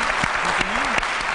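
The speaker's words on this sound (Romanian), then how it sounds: "Încă o dată aplauze pentru ei." Audience applause for contest winners, a dense burst of clapping from a crowd that keeps going evenly throughout, with a faint voice and a brief tonal sound heard underneath.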